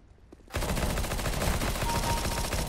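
Gunfire in the video game CS:GO, a sudden burst of rapid automatic shots after a brief quiet lead-in, continuing loud and dense to the end.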